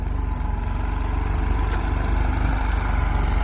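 A New Holland tractor engine runs steadily under load with its revs dropping, giving a loud, close, continuous low mechanical drone with a fast rhythmic thrum.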